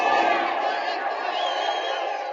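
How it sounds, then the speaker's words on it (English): Crowd at a baseball game roaring and cheering wildly in a steady, dense wall of noise, heard through the thin, narrow sound of an old radio broadcast. "The crowd's going wild."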